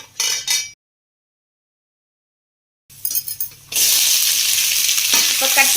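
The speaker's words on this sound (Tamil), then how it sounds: "இப்போ நான் எண்ணெய் சூடானதுக்கப்புறம் நான் மிளகு போடுறேன். ஒரு 50 கிராம் மிளகு." About 50 grams of black peppercorns drop into hot oil and burst into a loud, steady sizzle after a short silence, with a brief crackle beforehand.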